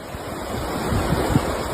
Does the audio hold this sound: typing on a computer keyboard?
no